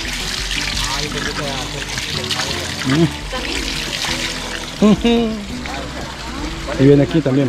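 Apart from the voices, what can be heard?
spring water flowing after plug removed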